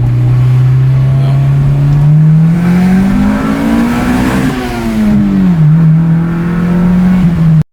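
A Honda engine with VTEC revs hard under acceleration, a loud continuous drone climbing steadily in pitch, dipping briefly, then rising again close to the microphone.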